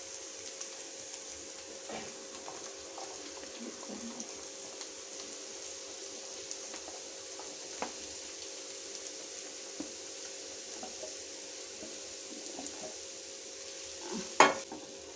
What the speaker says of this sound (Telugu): ఆనియన్స్ ఫ్రై అయిపోయినాయి. ఇప్పుడు ఆలు వేసుకుందాం.